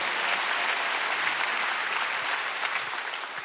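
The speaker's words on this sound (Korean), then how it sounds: "박수하세요." A church congregation claps steadily during a worship service, a dense continuous wash of applause from many hands that holds level and then begins to taper off.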